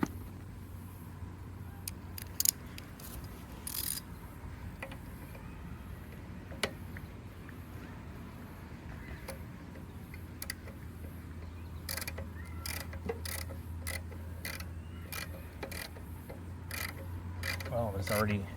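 A socket ratchet clicks in short bursts while removing the carburetor fuel bowl from a Briggs & Stratton lawn mower engine, with faint scattered metallic ticks and handling noises close by over a low background hum.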